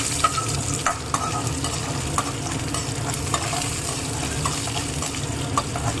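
Green chilli and curry leaves fry in oil for a paruppu urundai kuzhambu, a loud continuous crackling sizzle with frequent stirring scrapes, close up and without talk.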